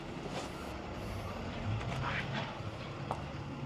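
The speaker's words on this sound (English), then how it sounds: "Looks like we got a truck out front." Truck idling out front of a new-build house, a steady low engine rumble with broadband outdoor noise that holds for several seconds at moderate distance, no talk over it.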